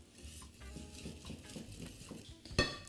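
A whisk or spoon stirs cherry clafoutis batter of flour and fleur de sel in a bowl, making soft, steady scraping and sloshing close up, ending with a sharp clink of utensil against the dish.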